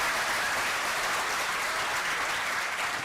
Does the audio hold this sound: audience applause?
yes